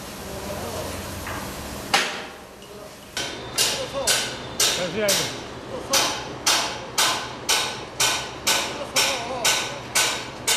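Bolts on the second level of a steel frame structure are struck with a hammer in a steady run of about a dozen sharp, ringing metallic blows, close and evenly spaced, after an opening single hit and some background murmur.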